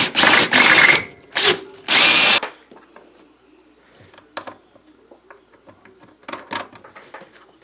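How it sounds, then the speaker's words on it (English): A power drill boring a hole deeper into 3/4-inch plywood in a bike shed, three loud high whining bursts in the first two seconds, followed by quieter scattered clicks and faint bird coos. "I'm going to just drill that hole a little deeper"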